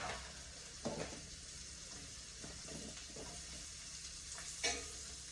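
Brunch food frying fast in a hot skillet, a faint steady sizzle with occasional stirring scrapes and clinks, heard alone without talk.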